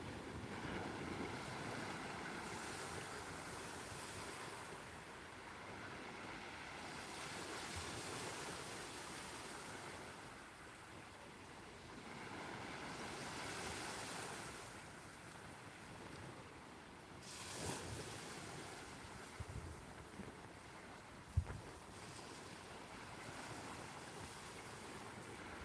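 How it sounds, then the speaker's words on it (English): Sea surging through a coastal blowhole on big tides, a continuous roar of waves and rushing water with wind buffeting the microphone and a few sharper splashes near the end, with no talk. "A blowhole on the big tides."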